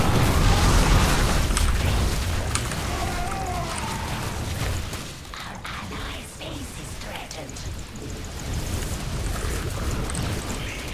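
Tank fire and explosions pound a base in a StarCraft match, a heavy rumbling barrage of booms and bursts that is loudest at first, then continues slightly softer, with no voices.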